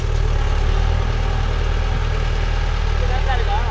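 Mahindra Yuvo Tech Plus 585 4WD shuttle tractor pulling a cultivator, its engine giving a steady, loud, low hum throughout with faint talk in the background.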